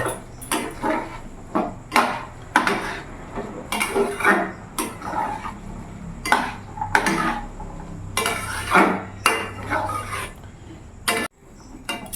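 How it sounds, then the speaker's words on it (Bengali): Green peas stirred and fried in a pan for a peas-and-paneer curry with potatoes, a metal spoon scraping and clinking against the pan in repeated strokes over a steady low background, with no talking. "এবার মটরের সাথে আমি ভালো করে কষবো"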